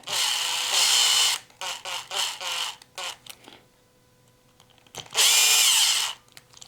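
A power driver runs short bursts snugging up screws on a Traxxas X-Maxx 12s aluminum differential, with two longer whirs and several quick pulses between them, close and loud, with no speech.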